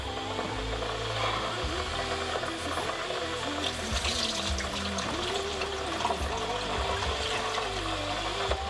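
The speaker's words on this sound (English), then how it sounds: "we go wash our rice" Rice being rinsed in water for a vegetarian pilau, a steady close watery swish and trickle running throughout at low level, with no talk.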